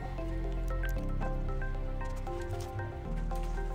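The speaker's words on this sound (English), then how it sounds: "Pour it on, spread it around with our hand." Epoxy resin poured onto a hockey-themed wooden table top, a close, soft liquid trickle and drip with squishy spreading sounds, steady and quiet with no talk.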